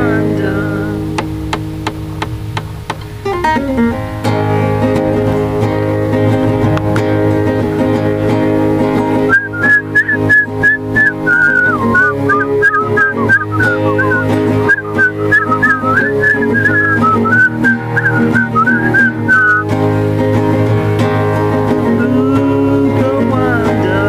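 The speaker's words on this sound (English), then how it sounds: "Whistle solo." A melodic whistle solo carries the tune over a full band backing in a song, a sustained, wavering line running for about ten seconds in the middle, loud and close.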